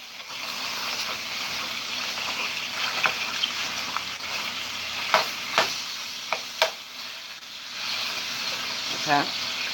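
Food browning in a pan, a soft, continuous sizzle with a few sharp utensil clinks and taps near the pan, set under intermittent talking.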